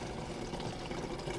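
Water pours steadily into electrical conduit to help pull wire through, a soft continuous trickling wash at close range with no voices.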